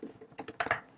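A short burst of keystrokes on a computer keyboard as a filename is typed, about half a dozen crisp, close taps in quick irregular succession, alone.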